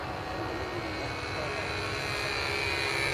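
An airplane makes a low pass before landing, its engine a loud, steady broadband drone that holds constant and swells slightly toward the end.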